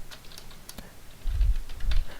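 Quick, light key clicks from a computer keyboard as a command is typed, with a few louder, heavier keystrokes toward the end; close by, with no voices.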